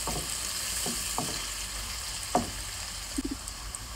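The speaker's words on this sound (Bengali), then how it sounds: "এইভাবে আমি পেস্টটারে নাড়াচাড়া করে দিলাম" Spice paste for a prawn curry cooking in a frying pan, a low continuous sizzle with a few soft scrapes and taps of a spoon stirring, close and unhurried, no talking.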